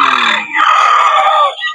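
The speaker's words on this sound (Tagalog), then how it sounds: "Ito pa yung mga manok na dala niyo na ano" A rooster crows loudly and close by, one drawn-out call alone, from game fowl brought by a breeder on a Filipino farm.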